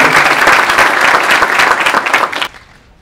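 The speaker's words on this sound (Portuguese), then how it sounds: "uma salva de palmas para a Cláudia, por favor" A seated audience at a lecture event applauds to welcome a speaker to the stage, loud dense clapping lasting a few seconds before tapering off abruptly.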